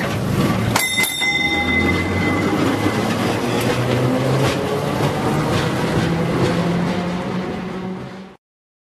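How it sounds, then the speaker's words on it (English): A passing tram rumbles steadily with rail clatter, with a couple of sharp metallic dings near the start, loud and close throughout. "Tram."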